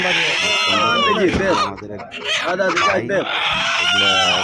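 Chickens and ducks clucking and squawking at a busy poultry market, a dense, close and loud flock chatter with voices talking over the birds throughout.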